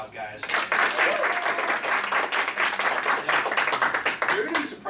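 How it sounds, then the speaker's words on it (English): An audience at an anime convention game show gives a brief, full round of applause, dense clapping that swells quickly and holds for a few seconds before voices return. "Give Ian a round of applause, guys."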